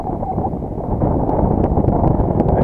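Strong wind buffets the microphone at Lake Beloye in a low, continuous roar, gusting louder partway through.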